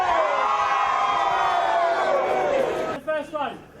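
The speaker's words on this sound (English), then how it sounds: "throw your arms up in the air, just do a really, really big cheer" A crowd at a Queen's Baton Relay event in Dominica lets out a big, loud cheer on cue, sustained shouting and whooping for about three seconds before trailing off into scattered voices.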